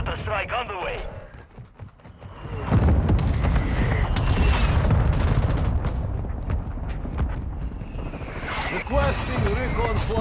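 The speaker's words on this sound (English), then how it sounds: "Mortar strike on the way." Mortar strike explosions in Modern Warfare II rumble in as loud, heavy booms with continuous rolling blast noise, following a brief gunfire burst, while radio-style voices speak over parts of it.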